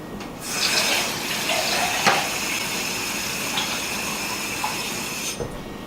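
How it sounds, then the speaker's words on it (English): Tap water pours steadily from a kitchen faucet into a tomato sauce can while making soup, a continuous close splashing hiss that begins abruptly and cuts off near the end. "fill this can about halfway up with water and get all the tomato sauce off of the sides"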